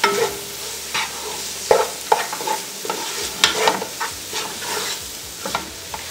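Garam masala with other spice powders is sautéed in a pan for Kerala-style Mughal chicken biryani, a loud close sizzle broken by repeated spoon scrapes and knocks against the pan, with no voices.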